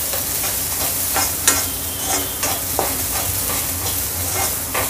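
Carrots and green chilli are stir-fried in oil in a pan, giving a close, continuous sizzle with repeated scraping stirs and little clicks from the spatula, no voices.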